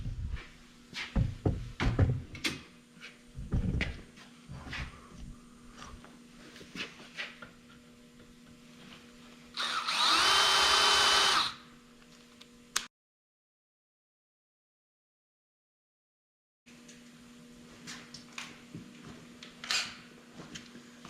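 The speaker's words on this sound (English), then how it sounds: "We're going to drill those out, and we'll tap them." Holes are drilled out in a Cummins 6.7 series P-pump: scattered clanks and tool handling lead to a loud, steady burst of drilling about two seconds long, then a stretch of silence before more handling knocks.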